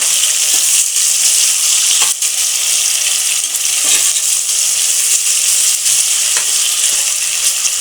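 Onions fry in a pan with a loud, continuous, close sizzle that holds steady throughout. Faint clicks from stirring sit underneath the hiss, and no voices are heard.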